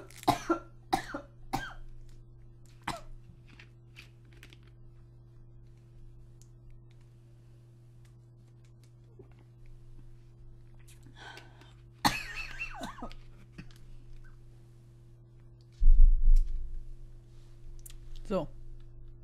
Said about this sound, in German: Ganz klar, mein Hustenanfall.